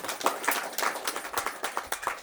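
A small group claps in scattered, uneven beats at a farewell ceremony beside a Lakshmi temple, the claps fairly quiet and loose with no voices over them.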